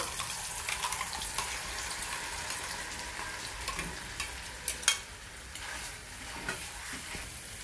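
Ground masala paste is stirred into hot oil in a kadhai for chhole bhaji, making a steady sizzle with scraping and stirring clatter and a few sharper knocks against the pan, and no speech.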